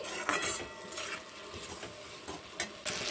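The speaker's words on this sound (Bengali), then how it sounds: "এবার দিয়ে দেবো কেটে রাখা আমগুলো দিয়ে একটু নেড়ে চেড়ে নিচ্ছি।" Cut mango pieces being stirred in a cooking pot, with soft scraping and clinking of a utensil against the pot in an irregular rhythm, close and fairly quiet, no voices.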